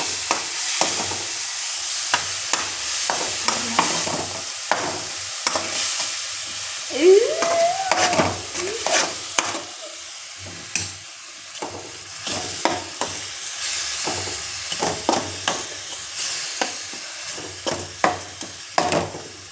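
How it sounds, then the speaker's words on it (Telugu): Ground ginger, coriander and tomato paste fries in a pan for egg curry, with a soft background sizzle broken by repeated scraping stirs and clicks at an irregular rhythm, heard close up. "ఆ పేస్ట్ వేసేస్తున్నాను ఆ పేస్ట్ బాగా పచ్చివాసన పోయేంత వరకు మనం వేసుకోవాలి"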